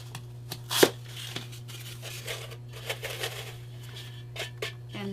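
Foam wedges are sliced and trimmed to fit the top of a container, giving a few soft, scattered cutting and crinkling sounds close by over a steady low hum.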